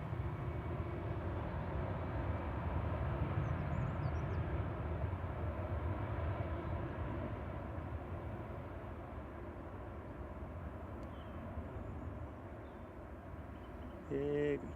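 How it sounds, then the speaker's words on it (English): Aer Lingus Airbus A330 jet departing Manchester Airport, a broad, steady distant engine roar that swells and then slowly fades, with people talking quietly over it. "you can see an Aer Lingus A330 heading out"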